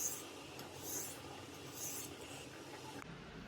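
Knife blade being sharpened on a diamond stone, soft, rhythmic scraping strokes repeating about once a second, quiet and close with no talking.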